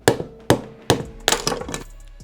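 A hammer strikes a flat screwdriver to drive out the variator-side oil seal of a Piaggio 50cc scooter engine, giving five or six sharp, close metallic taps at a steady rhythm.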